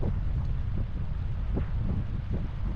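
Cold wind buffeting a microphone on a mountain hike at Brainard Lake Recreation Area in Colorado, a constant low roar with gusty thumps, loud and close with no voices.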